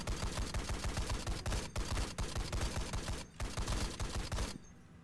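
Rapid automatic gunfire from the video game BRM5 rattles in fast, sustained bursts with brief gaps, loud and close, before cutting off at the end.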